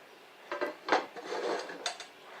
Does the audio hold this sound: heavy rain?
no